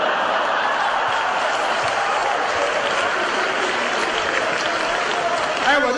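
A theater audience at a comic crosstalk performance by Yue Yunpeng and Sun Yue breaks into loud, sustained applause, a dense, continuous wash of clapping with some cheering mixed in.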